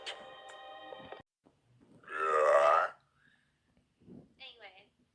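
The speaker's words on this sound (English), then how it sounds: "Ramen makes me have to burp" A woman lets out one long, loud, croaky burp after eating ramen, with softer voice sounds before and after it.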